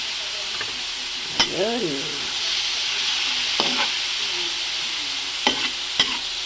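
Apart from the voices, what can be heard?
pork and chicken frying in pan for sticky rice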